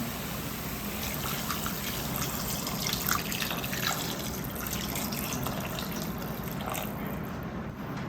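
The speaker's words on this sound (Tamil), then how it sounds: "இப்போ வந்து நம்ம குருமாக்கு தேவையான தண்ணியை ஆட் பண்ணிக்கலாம்." Water pours steadily into a pan of chicken kurma on the stove, a continuous splashing trickle lasting several seconds with no voices.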